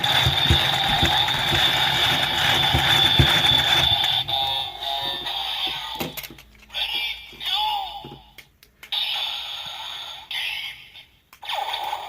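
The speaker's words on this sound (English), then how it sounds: "now when you crank it" A Kamen Rider Evol Driver toy belt is cranked, giving a loud ratcheting, whirring mechanism sound at first. Electronic toy sound effects and announcer-style voice lines then follow in bursts separated by short gaps.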